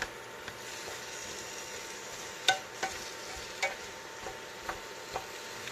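Teriyaki beef and broccoli stirred in a pan, a spatula giving sparse, separate scrapes and clicks every half second or so over a faint, steady sizzle.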